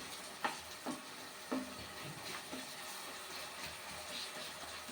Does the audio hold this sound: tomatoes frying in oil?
yes